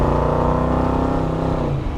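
A 1960 Corvette Restomod's engine winds up loud and close on a rolling start, a steady throaty roar holding its pitch before easing off near the end; no talking.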